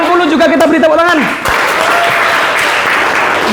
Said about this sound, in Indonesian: Yang dapat nilai 80 juga kita beri tepuk tangan.